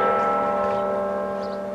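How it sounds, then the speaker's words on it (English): Church bells at Arlington Cemetery hum and ring in a sustained, loud tone, slowly fading over the short stretch with no talking. "the bells ring with sober respect"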